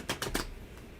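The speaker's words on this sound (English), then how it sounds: "one more shuffle." Tarot cards being shuffled by hand: three quick, crisp papery bursts in the first half second, then quiet, close and fairly soft.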